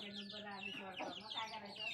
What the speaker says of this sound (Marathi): हे कोंबडी आहेत कोंबडे कोंबड्या पण आहेत